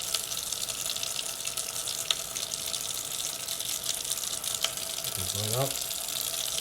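Kitchen tap running in a steady close gush while shellfish is rinsed, with a brief spoken remark partway through.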